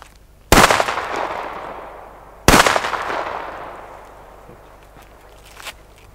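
Two sharp, loud firecracker bangs about two seconds apart, each followed by a long fading echo outdoors.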